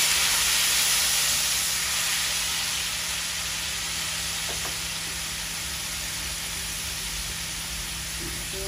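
Onions frying in a pan for a Bangladeshi pangas fish curry with pointed gourd; a dense, even hiss of sizzling oil, close and steady with a faint tick midway, no talk.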